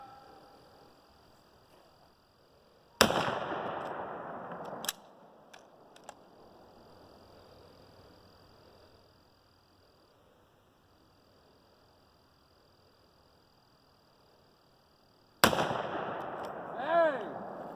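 Rifles fire at a shooting range: a couple of sharp, loud reports spaced well apart, with a few faint clicks between them and quiet background in the gaps.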